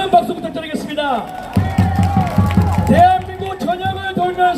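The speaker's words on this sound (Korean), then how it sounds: "안기영 방역위원장에 다시 큰 박수 부탁드리겠습니다." Audience at a Korean election campaign rally clapping and cheering in bursts of applause, with a loud amplified announcer talking over the crowd throughout.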